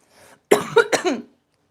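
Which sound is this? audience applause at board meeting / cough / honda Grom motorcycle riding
cough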